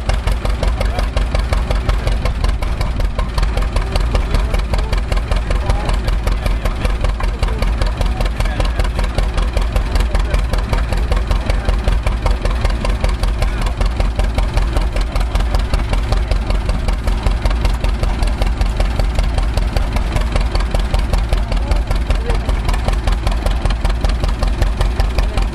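Antique farm engine at a fair, running at a steady idle with a loud, even chugging beat that holds throughout, close by and with no talk over it.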